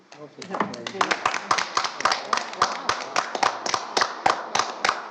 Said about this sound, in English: I feel like we should have a round of applause for that one.